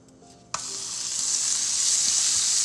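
Butter dropped into a hot pan bursts into a sudden sharp sizzle that holds steady and close, a bright continuous hiss with no talking.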